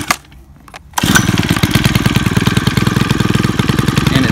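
A Stihl FS 91R weed eater engine starts after a short quiet moment with a faint knock. It then catches and runs at a loud, steady, buzzing idle close by, with no talk.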